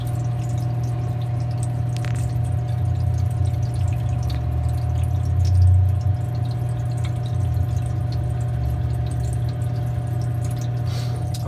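Manitowoc QM 45A ice machine running, a steady low motor and pump hum with water trickling and dripping through the cycle, constant and fairly close, no speech.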